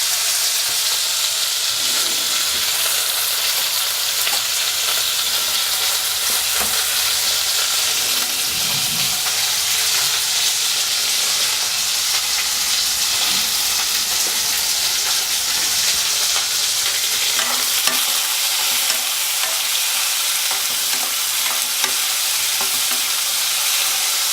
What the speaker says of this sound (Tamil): கொஞ்சம் ஃப்ரை ஆனோன்னா நம்ம இந்த தக்காளியை டைரெக்டாக அதில் ஆட் பண்ணிக்கலாம்.